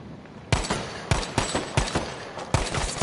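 Rapid bursts of gunfire from Battlefield V Firestorm, several loud sharp volleys spaced about half a second apart over a steady background of game noise, with no talking.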